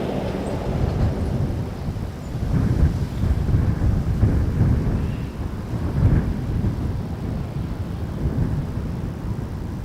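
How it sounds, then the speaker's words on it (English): An Embraer 175 Jazz regional jet on approach to Toronto Pearson Airport, heard as a steady broad roar of engine and air noise that swells and eases slightly, moderately distant and continuous with no talking. "Embraer 175 Jazz 987 coming in from LaGuardia"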